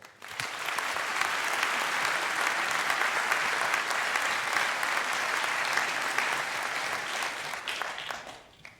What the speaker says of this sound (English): Please welcome Sebastian with a huge round of applause.